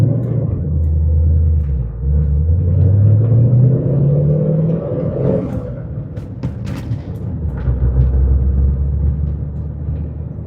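A 2010 Dodge Challenger SRT8 V8 engine revs loud and close, rising in pitch through first gear and then dropping to a deep rumbling drone after a skip shift from first to third.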